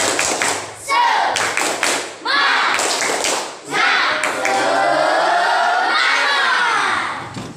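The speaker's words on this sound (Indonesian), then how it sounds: "Oke, 1, 2, 3, tepuk semangat." Schoolchildren perform tepuk semangat, a rhythmic group clapping chant in an Indonesian classroom, with bursts of patterned claps broken by loud shouted chanting voices, close and energetic.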